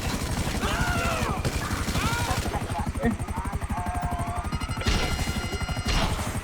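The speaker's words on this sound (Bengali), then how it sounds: "হেলিকপ্টার এই যে আমার হেলিকপ্টার" A helicopter in the video game GTA V gives a loud, rapid, steady rotor thumping throughout, with occasional crash-like impacts. Excited voices talk over it.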